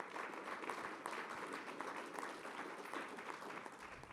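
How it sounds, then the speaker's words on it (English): Quiet, steady applause from the audience at a public program on immigration and business, a continuous patter of many hands heard from a distance throughout. "Could we give them all a round of applause?"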